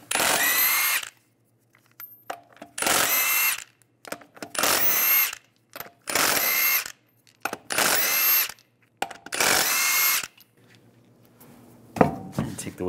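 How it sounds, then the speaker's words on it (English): A power tool with a 22 mm socket spins lug nuts off a 2007-2013 Chevy Silverado 1500 wheel in six separate loud, whirring bursts with quiet gaps between them, close up. "Using a 22 millimeter socket,"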